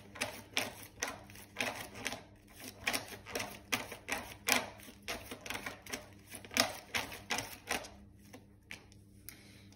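Tarot cards being shuffled by hand for a reading, a close run of rapid papery riffles and flicks in uneven bursts that fade out near the end, with no talking.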